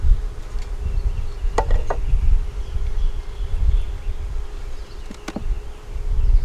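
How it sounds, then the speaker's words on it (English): Steady low buzzing of many honey bees close by while a hive is reassembled, a dense insect drone with a few brief louder passes of individual bees. "so the bees can walk back in the house, or fly or crawl"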